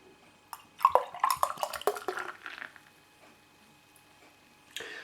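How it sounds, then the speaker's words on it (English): Ossett Treacle Stout beer being poured into a glass, a close run of splashing, trickling liquid lasting under two seconds, then quiet before a brief final rush. "Let's pour the rest in, shall we?"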